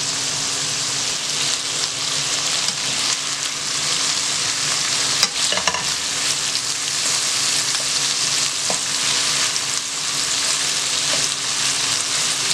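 Shrimp frying with garlic in a pan over medium heat, a dense, even sizzle and crackle throughout with a couple of brief clatters partway through, no one speaking.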